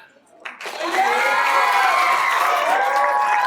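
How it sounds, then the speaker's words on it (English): A crowd at a high school JROTC awards ceremony breaks into loud cheering and whooping, with high shouts rising after a brief pause and lighter clapping underneath. "Let's hold the applause till we're done"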